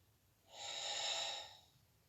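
A single slow, audible breath during a Pilates exercise, a soft airy exhalation swelling and fading over about a second, close and quiet with no talk.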